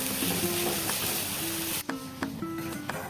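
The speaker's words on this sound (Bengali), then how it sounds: "এদিকে আমার কোপ্তা ভাজাও চলছে" Green-banana kofta frying in oil on a stove, a steady hiss that drops off sharply partway, leaving quieter crackles, clinks and a faint tonal hum.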